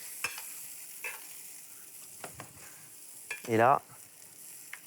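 Butter sizzles in a frying pan with cep mushrooms, soft crackling under occasional utensil clinks, and a brief louder hiss near the end; someone speaks briefly.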